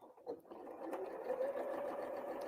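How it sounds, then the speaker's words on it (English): A sewing machine stitching quilt scraps together runs in a steady, close whirring burst after a brief start, fairly quiet and alone. "You just start sewing them together."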